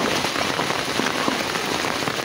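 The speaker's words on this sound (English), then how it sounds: "My village is flooding because heavy rain." Heavy rain pouring down on a flooding village, a dense, loud, continuous hiss of drops striking surfaces, steady and close with no breaks.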